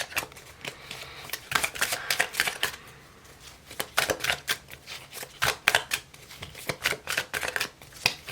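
Tarot cards shuffled by hand in quick, crisp riffles, repeating in uneven bursts at close range with no talk.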